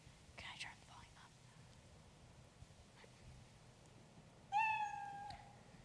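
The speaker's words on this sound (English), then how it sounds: "Let's just get him to meow" After some soft whispered talk, a single clear cat meow sound effect from the Scratch coding program rings out near the end, bright and close.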